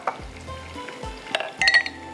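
Potatoes fry with cumin in a pot while making mutton pulao, a soft steady sizzle with a spoon stirring and clinking against the metal pot, close and fairly quiet.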